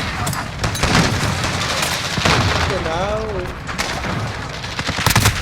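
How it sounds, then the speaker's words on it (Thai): Gunfire from the CR56 AMAX in a first-person shooter video game, loud continuous bursts of automatic fire and booms, with excited talk over it. "ปืนใครไม่รู้ยิงปืนใครมาไม่รู้"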